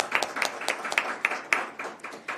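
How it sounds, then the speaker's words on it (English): Sparse applause from a small press conference audience, a handful of distinct claps in an uneven rhythm over about two seconds, moderately close and fairly quiet, with no talking. "I think we deserve another round of applause for that"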